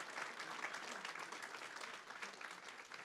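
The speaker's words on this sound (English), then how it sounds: "Can we give a round of applause to the ACLU?" A crowd at a college forum on smart justice gives a round of applause for the ACLU, dense steady clapping throughout, somewhat distant and soft, with no voices on top.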